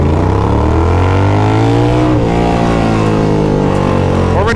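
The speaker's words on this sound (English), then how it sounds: "if I fucking peg this bike," A small motorcycle revs hard, its engine note climbing steadily under full throttle in one gear before easing off, loud and close throughout.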